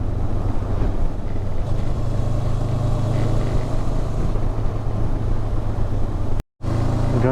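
A 2024 Honda NX500 adventure motorcycle's engine drones steadily under load while accelerating through the gears, with a loud, continuous rumble and wind noise that cuts out briefly near the end.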